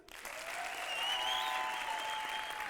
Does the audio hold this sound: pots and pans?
no